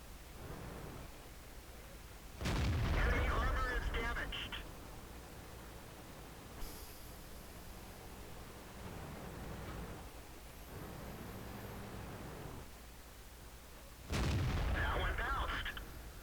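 Tank guns fire twice in a video game battle, two loud booms about twelve seconds apart, with quieter mechanical hum and a voice talking in the gaps between them.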